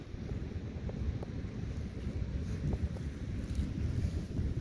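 Cold wind blows steadily outdoors at a whitebaiting spot in South Westland, New Zealand, a continuous low roar and buffeting against the microphone with no talk.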